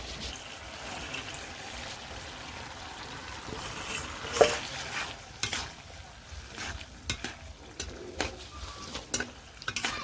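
Pumpkin leaves and finely chopped jute leaves fry in a pan, giving a steady hiss with scraping stirs and sharper clatters toward the end, close and moderately loud.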